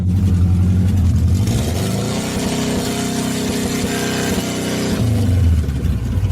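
Saab car engine after 30 years stored in a garage, starting and revving loudly, rising to a sustained higher-pitched rev for a few seconds before dropping back to a rough idle.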